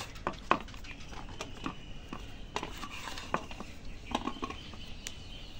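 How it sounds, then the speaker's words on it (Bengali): A knife chops pointed gourd (potol) on a board in a home kitchen, with sharp, irregular taps spread out one by one, fairly quiet, and no talking. "সব টপ টপ করে কেটে দাও।"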